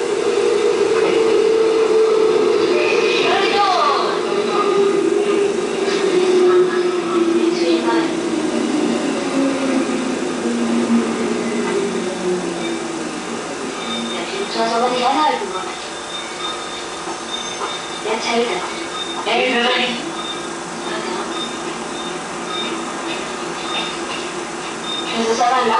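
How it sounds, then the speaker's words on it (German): A long train approaches and rolls past at close range, a steady loud rumble of wheels and cars with squealing and rattling that lasts throughout, with some voices faintly under it. "Ich höre den Zug."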